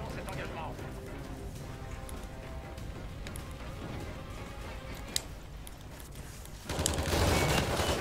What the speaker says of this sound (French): Et on est parti avec cette mitraillette, la Trencher, qui fait plaisir.